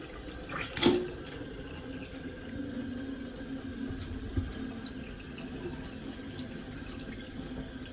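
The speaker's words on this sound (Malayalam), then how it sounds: "നല്ല സ്പീഡിൽ വെള്ളം അകത്തോട്ട് പോകുന്നുണ്ട്" Water runs down a freshly unclogged kitchen sink drain in a steady, fast rush that holds for several seconds, with a louder splash near the start and no voices.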